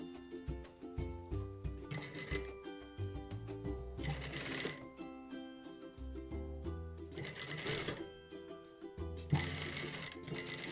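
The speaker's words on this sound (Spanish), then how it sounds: "Sostenemos y respetando margen de costura vamos a coser rematando al iniciar" Sewing machine stitching a sleeve seam with backstitching at start and end, running in short bursts of rapid mechanical whirring separated by pauses, close and moderately loud, with faint music-like tones underneath.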